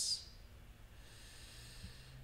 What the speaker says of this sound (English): Deep oceanic breathing here.